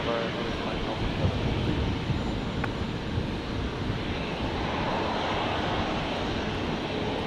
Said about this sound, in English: Virgin 957 on screen here, just about to touch down